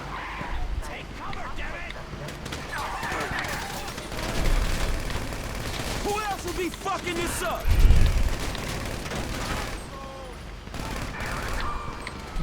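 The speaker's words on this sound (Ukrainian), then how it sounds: "Зараз разом відкрити вогонь, щоб я міг утекти." Gunfire and explosions in the video game GTA 5, scattered shots and a couple of deep booms over vehicle and engine noise, with voices talking throughout.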